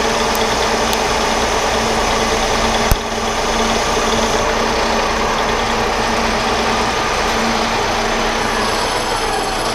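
A Powermatic Model 90 lathe runs at about 1,000 RPM with a constant loud motor hum and whine, near and unbroken, with one sharp click a few seconds in.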